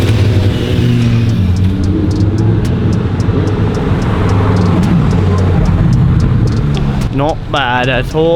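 A Lamborghini at the 2023 Formula 1 event in Montreal, its engine droning loud and close with a steady revving roar, while someone talks briefly over it near the end.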